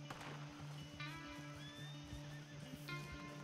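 A horse whinnies in the game Red Dead Redemption 2, a rising and falling neigh heard twice over steady hoof clip-clop and a constant low background hum, moderately faint.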